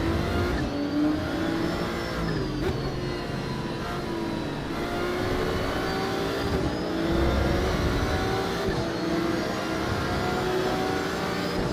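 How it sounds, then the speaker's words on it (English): A Ford Mustang race car in Assetto Corsa Evo drones steadily at sustained revs, its engine note rising and falling gently through gear changes, loud and continuous with no voices over it. "you can hear that Mustang already"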